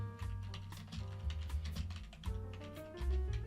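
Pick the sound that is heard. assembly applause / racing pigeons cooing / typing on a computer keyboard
typing on a computer keyboard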